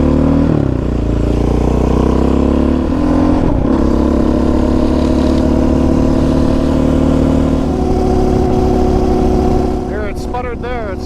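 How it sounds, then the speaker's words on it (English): A Yamaha Raptor 700 ATV engine drones loudly and close while riding, the steady engine tone dipping briefly and wavering as it sputters, then climbing in pitch near the end. "There, it sputtered there. It's sputtering a little bit."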